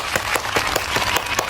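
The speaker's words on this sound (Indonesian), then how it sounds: "Tepuk tangan dong untuk kita semua." Children in a primary school classroom clap together for about a second and a half, with sharp rhythmic claps landing roughly every fifth of a second, close and fairly loud, with no talking.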